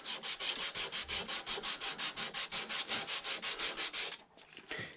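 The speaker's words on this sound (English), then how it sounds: "get that perfectly sanded before I install the staple" Rapid rhythmic sanding of a wooden plug for a simple powder horn, a steady back-and-forth rasp of about twenty close strokes that stops abruptly near the end, followed by faint handling noise.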